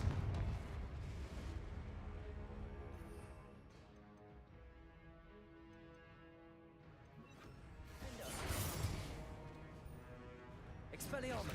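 Blasting-curse explosions from a Harry Potter video game, with a loud crackling blast at the start and another burst later, set over continuous game music and a voice calling out spells.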